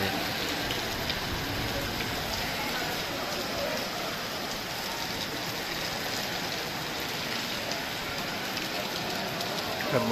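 Torrential rain drums on an open wholesale fruit market where melons sit unsold beside parked trucks, a thick, unbroken roar of falling water close by from start to finish.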